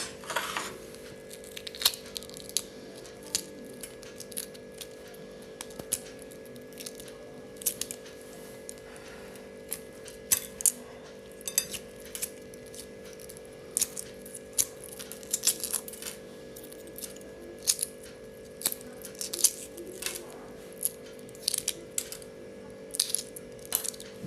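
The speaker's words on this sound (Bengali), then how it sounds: "এবার আমি ডিমটা যে সেদ্ধ করে রেখেছিলাম ডিমটাকে কিন্তু ছাড়িয়ে নেব" Shell is peeled off a boiled egg by hand, a quiet run of small crackles, clicks and scratchy snaps scattered irregularly over a low steady background hum.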